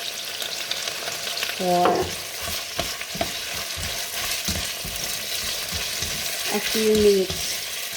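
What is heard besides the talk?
food cooking in a pan with salt and black pepper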